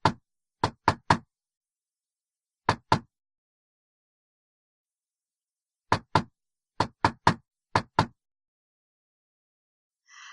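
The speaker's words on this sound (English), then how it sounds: "I knocked loud enough to wake the dead." Loud, sharp knocks on a door come in separate clusters of two and three, with long silent pauses between them.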